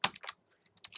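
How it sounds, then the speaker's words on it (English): Keys tapped on a computer keyboard while entering a spreadsheet formula, a few quick clicks and taps in a short burst, close and quiet with gaps between strokes. "So we keep typing"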